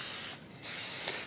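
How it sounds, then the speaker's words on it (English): Two hissing bursts of spray coat the openings of a standard-size muffin tin, the first about a third of a second long and the second longer, with a short silent gap between them and no voices. "Then I'm going to spray the openings of my muffin tin."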